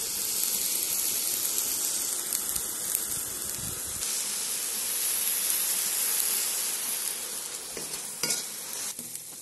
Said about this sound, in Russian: Конину обжарили